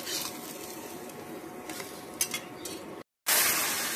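Chitai pitha frying in oil, a soft steady sizzle with light stirring and a few faint clinks before a brief cut, then a louder burst of frying noise.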